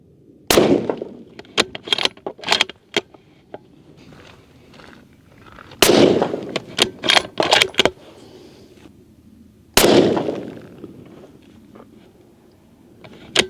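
Three sharp, loud rifle shots spaced about four to five seconds apart, fired while sighting in a scope outdoors, each followed by clicks and handling of the rifle.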